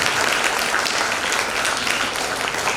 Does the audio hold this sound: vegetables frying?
no